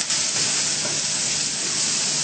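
Stir-fried biscuit vegetables with tofu sizzle loudly and steadily in a hot pan just after a few drops of Maggi seasoning go in, a dense continuous hiss with no voices.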